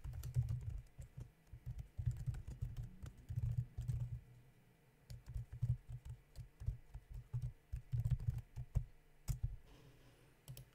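Rapid, close keystrokes on a computer keyboard while writing C# Selenium code, a continuous run of soft clicks and thumps in irregular bursts with brief pauses.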